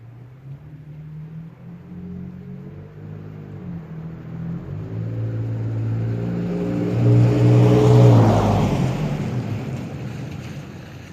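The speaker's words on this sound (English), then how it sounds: "So there it is, the Gibson exhaust on a Tacoma." A 2nd-gen Toyota Tacoma TRD pickup with a 4.0L engine and Gibson cat-back exhaust drives past at about 30 mph. Its deep, droning exhaust note builds as it nears, peaks loudly, then begins to fade.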